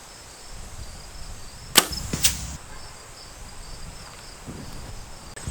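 An arrow tipped with a REK XP broadhead shot down range outdoors, heard as one sharp whooshing crack followed by a brief rattle, over a steady background of insects and crickets.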